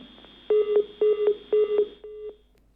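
Disconnect tones sound on a telephone line as a caller drops out of a live TV news debate. Four evenly spaced electronic beeps play over faint line hiss, with the last beep softer.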